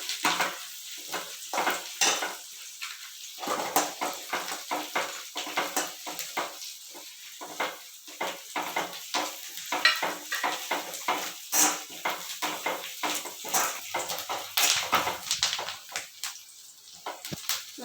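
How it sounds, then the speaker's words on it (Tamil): Pirandai (adamant creeper) sautéing in hot oil in a pan, with a continuous sizzle broken by frequent scraping stirs of a spoon against the pan, steady and close throughout. "எண்ணெயில் நல்லா வதக்கிட்டு"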